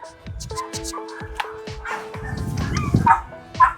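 An eight-year-old Belgian Malinois barks in a kennel, a run of sharp, close, loud barks with yips and a whimper, a voice talking briefly underneath.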